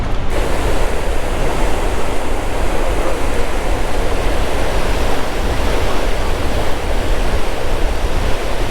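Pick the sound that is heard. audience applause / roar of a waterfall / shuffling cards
roar of a waterfall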